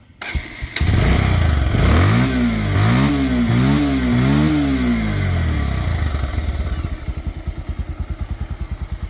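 A Bajaj Pulsar 150 twin-disc ABS motorcycle starts with a sharp crank and catches, then its engine revs up and down in four rising blips before settling into a steady, pulsing idle, loud and close with no talking.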